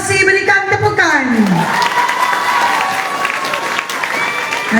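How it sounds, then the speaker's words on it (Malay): A school assembly crowd applauds a lineup of 27 innovation groups, with crowd noise and clapping filling the background under a loud, amplified voice and a musical tone fading at the start. "Di hadapan kalian semua adalah barisan 27 kumpulan inovasi, berikan tepukan."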